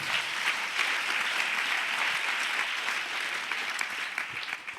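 A church congregation claps loudly and steadily in sustained applause, a dense continuous patter with no pauses throughout.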